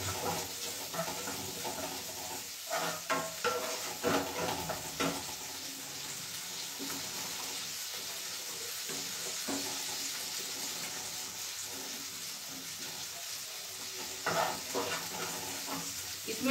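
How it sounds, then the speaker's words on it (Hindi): Vegetables lightly sautéing in a pan give a steady sizzle with clattering stirs and scrapes, louder in bursts early on and again near the end. "ये सब्जी को हम हल्का सॉटे करेंगे।"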